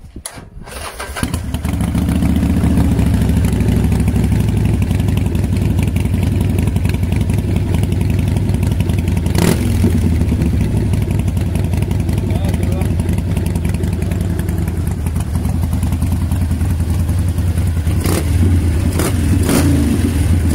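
A Harley-Davidson Forty-Eight motorcycle engine cranks and catches, then settles into a loud, close, rumbling idle lasting many seconds, broken by a few short throttle blips near the end.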